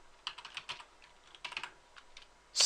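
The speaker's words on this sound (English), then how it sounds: "So we type in net user" A computer keyboard is typed on close up in two quick bursts of light keystrokes, entering a command-line instruction, and ends with a sharper, louder key clatter.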